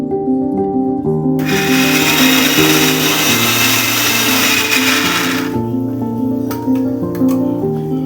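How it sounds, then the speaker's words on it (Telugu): A kitchen mixer grinder whirs loudly for about four seconds while grinding shallow-fried tomato with garam masala into a paste for Telangana fish curry, then cuts off, leaving soft background music tones. "అందులోనే కొద్దిగా అంత గరం మసాలా వేసి మిక్సీ పెట్టుకోవాలి"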